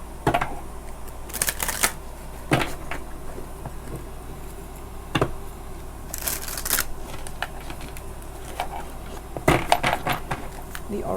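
Oracle cards being shuffled and drawn, heard as quiet, close riffling bursts and soft card snaps scattered over a low, steady background hum.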